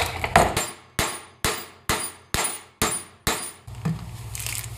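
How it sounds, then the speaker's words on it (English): A seal is hammered into a truck axle hub with a seal driver, giving eight sharp metallic strikes at a steady, even pace, each one ringing briefly before the next, followed by a faint low hum. "I believe I have a seal driver that'll work on this time."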